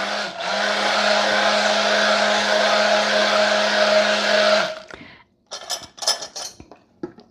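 Maple nut ice cream batter mixed in a batter bowl with an electric mixer, a steady buzzing motor whine lasting several seconds, then it stops and a few clinks and scrapes of utensils against the bowl follow.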